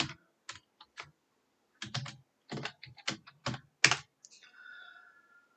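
Quick bursts of keystrokes on a computer keyboard as a password is entered, clustered in short runs separated by brief pauses, close and clear in a quiet room, ending in a soft chime.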